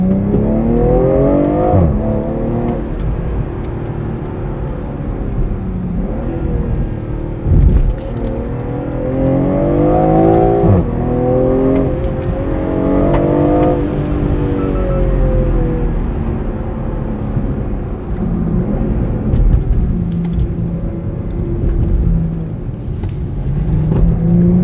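A BMW M340i in Sport Plus mode revs hard, engine note and exhaust rising and falling in repeated sweeping climbs, loud and close with sharp pops between pulls, no talking.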